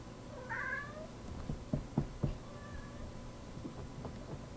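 A cat named Callie meows softly a couple of times, faint and a little distant, with a few light knocks in a quiet room and no talking.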